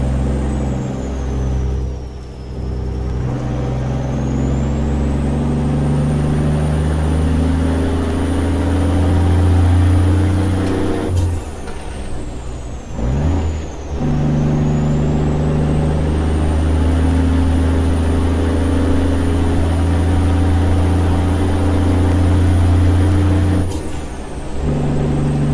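A heavy truck hauling a Fruehauf tanker in American Truck Simulator drones steadily with low engine hum, its revs dipping and rising as it steps through auxiliary transmission gears, with short air-brake-like hisses at each shift.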